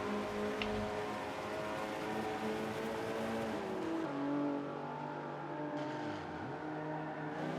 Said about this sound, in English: Doing well on this race with the little Vauxhall.